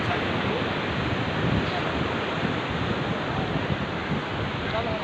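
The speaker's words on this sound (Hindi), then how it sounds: "ये देखिए समुद्र का लहर" Sea waves wash against the shore at Bandstand in Mumbai, a steady broadband roar of surf mixed with wind noise on the microphone, continuous and fairly loud with no voices.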